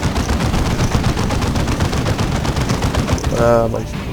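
Turret gunfire in the strategy game Dawn of War 2 Retribution, rapid continuous automatic fire rattling steadily for several seconds amid battle noise, loud and dense.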